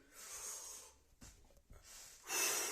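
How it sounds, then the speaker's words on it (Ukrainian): Slow breathing in and out during a morning exercise routine: soft, close airy breaths with pauses between, an inhale and exhale followed by a stronger breath at the end, no talk. "Вдих. Видих."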